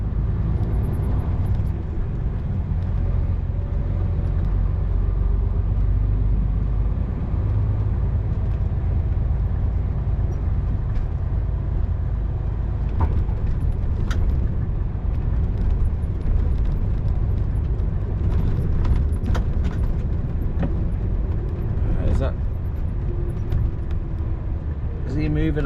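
A lorry drives slowly around an estate, its steady low engine drone running throughout with occasional brief clicks and air hisses, while someone talks over it.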